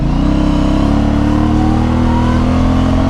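An Aprilia Shiver 900 motorcycle, heard from the rider's position, roars loudly and continuously as it pulls hard through the gears with a quickshifter, engine note rising steadily with wind noise beneath.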